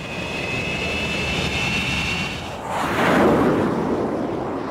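An F9F Panther jet held at full power on an aircraft carrier catapult gives a steady, loud, broadband roar with a thin high whine, swelling into a louder rushing surge partway through.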